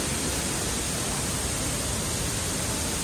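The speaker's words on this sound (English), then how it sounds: "And there is a waterfall." Indoor waterfall in the garden lounge of Hamad International Airport, a steady broadband rush of falling water that holds an even level throughout with no voices.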